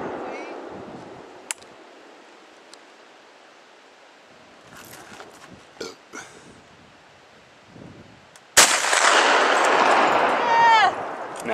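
A gunshot fired at a pane of glass outdoors, a faint crack early on, then one sharp, loud report followed by a burst of noisy, ringing glass debris, with quiet rustling in the pauses before.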